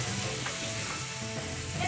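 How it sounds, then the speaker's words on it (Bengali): Fish frying in a pan in a home kitchen gives a steady, soft hiss of sizzling oil with faint crackles. It runs alone at low volume, without speech. "এখানে আমি মাছ ভাজছি"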